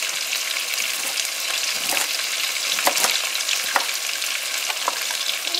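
Broccoli sautéing in a pan with coconut and seasoning, a continuous close sizzle and crackle with occasional scraping stirs and bursts of louder spitting.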